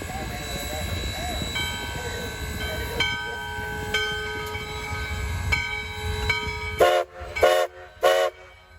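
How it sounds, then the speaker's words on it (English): Three loud, sustained blasts of a steam locomotive whistle ring out near the end as engine 148 backs out of a depot, following a stretch of rumbling engine noise and a faint voice. "With 3 pulls of the whistle, 148 begins backing out of the depot for its final run of the day"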